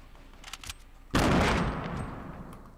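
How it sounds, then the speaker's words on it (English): Gunfire in the Fortnite battle royale game, duo mode: a few faint distant shots, then a sudden loud burst of rapid fire that rings out and slowly decays. "I think they were getting shot by someone else"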